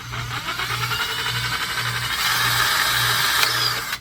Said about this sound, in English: take our 1/8 inch drill bit and center it on those holes